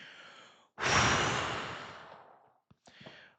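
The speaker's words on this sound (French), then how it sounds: "Et surtout, vous soufflez fort." A forceful exhale during a breathing exercise, blown out hard and long after a short pause, fading gradually, followed by a couple of quick breath catches and a softer breath at the end.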